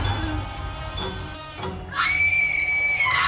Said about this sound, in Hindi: वो जोर से चीख पड़ी।